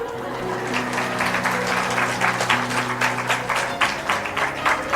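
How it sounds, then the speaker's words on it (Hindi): Audience clapping at a spiritual satsang gathering in Haridwar, steady continuous applause from a seated crowd over a low sustained tone, with no talking. "कोई बात नहीं, अब बजाओ ताली।"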